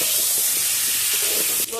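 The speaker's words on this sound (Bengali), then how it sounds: "আমি অর্ধেক অর্ধেক দিয়েই ফুলকপিটা ভেজে নিচ্ছি" Cauliflower pieces frying in hot oil in a home kitchen, a loud, steady sizzle and hiss filling the whole clip close by, cutting off briefly at the end.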